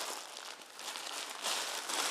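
A plastic bag around a Sirui tripod crinkles and rustles close up while being unpacked, a soft, continuous crackling that grows a little busier near the end, with no talking.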